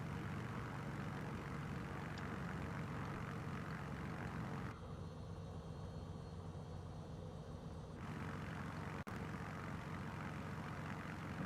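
Beechcraft Bonanza G36 propeller engine droning steadily while taxiing in Microsoft Flight Simulator 2020, a constant mid-level hum that briefly changes tone partway through, with a single short click near the end.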